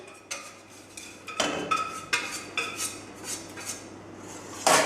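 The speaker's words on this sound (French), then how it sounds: "Je vais incorporer donc mon roux tiède dans mon lait bouillant" A whisk or spoon scrapes and clinks against a pot while warm roux is stirred into boiling milk for béchamel sauce, giving irregular close metallic taps and rubs spaced through the clip, with one sharper clatter at the end.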